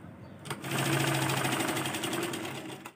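A sewing machine runs continuously at a steady clip while stitching a child's silk skirt, its rapid mechanical chatter close and loud for a few seconds before stopping abruptly.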